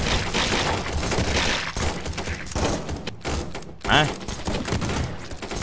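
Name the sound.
gunfire from a gun in a zombie survival video game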